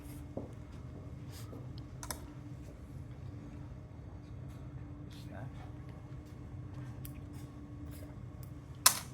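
Scissors snip through pig tissue during a dissection, giving a few faint, sparse clicks over a steady low hum, with a voice speaking quietly in the background.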